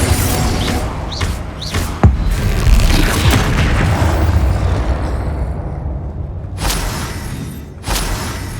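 Confringo blasting spell from Hogwarts Legacy bursting in a loud, booming explosion, with a heavy rumble that lingers and fades, then another blast later on.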